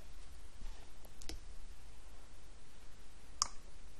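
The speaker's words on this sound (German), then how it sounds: "Und das machen wir mal hier, klicken hier rein" A few faint, sharp clicks from a computer mouse during work in MathCAD Prime on a computer, scattered and sparse, with one crisper click near the end against a quiet background.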